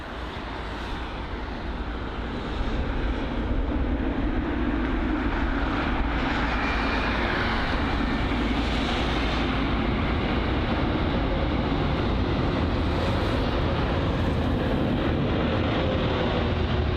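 Delta Air Lines Airbus A330neo jet landing at London Heathrow after a flight from New York JFK, a loud steady engine roar with broadband rushing noise building after the first seconds and holding for the whole stretch, with no voices.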